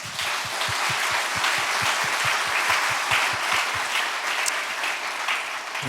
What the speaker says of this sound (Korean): 우리 감사의 박수를 드립시다